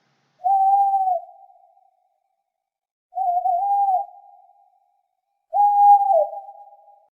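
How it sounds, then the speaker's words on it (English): An owl gives three separate drawn-out hoots, evenly spaced and clear, each trailing off, with silence between them. "Owl."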